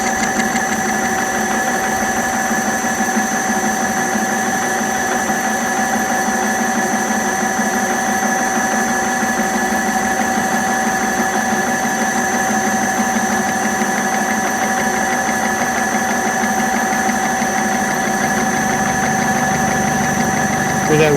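An Acraturn 1340 metal lathe cutting across holes in a workpiece gives a steady, continuous mechanical drone with a rough rumble underneath, holding even throughout.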